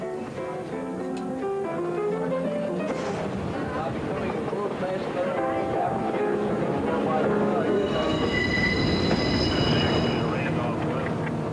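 A passenger train rolls along with a steady rumble and rising metallic wheel squeal, while voices and music-like tones sit in the mix.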